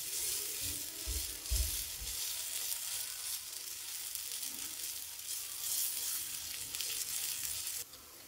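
Small rava paneer pancakes fry in oil on a griddle over low gas, a constant soft crackling sizzle with a few low thumps early on, fading sharply at the end.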